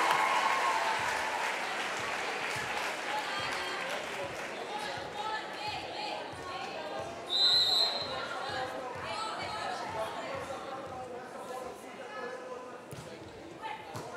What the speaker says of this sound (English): Retour des deux équipes sous vos applaudissements, cher public